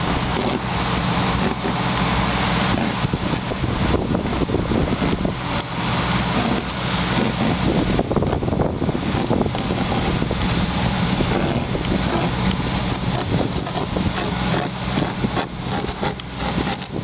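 Cold wind roars during freezing rain, a loud, constant buffeting rush that batters the microphone throughout, with no talk.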